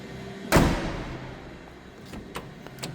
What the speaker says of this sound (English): Doors don't sound like that closing on the modern day cars.